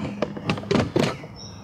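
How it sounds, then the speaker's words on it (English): Rifles being shifted aside inside a Humvee cabin: a handful of hollow thunks and knocks of metal and wood against the vehicle interior, close and moderately loud, over about a second. "Here, move the rifles out of the way."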